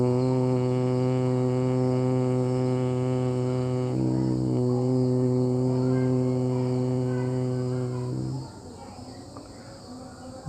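A person makes the steady bee-like humming of Bhramari yoga breathing, a voice imitating a bee's drone. It is a loud, sustained buzzing hum with two short breaks before it fades out near the end.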